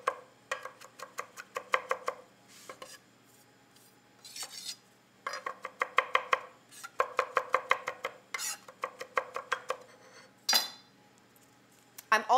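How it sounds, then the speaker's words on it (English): A knife chops fresh thyme on a cutting board for steak seasoning, fast rhythmic taps in bursts with short pauses, close and crisp, plus a few clinks of utensils. "just chop all this beautiful thyme"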